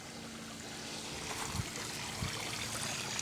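Water trickles and pours steadily as fish fry are released into a garden pond, with a couple of soft splashes, close and moderately quiet.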